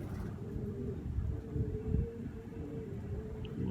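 Pigeons of old pure breeds cooing in a loft, soft repeated low coos at close range under a faint background hum.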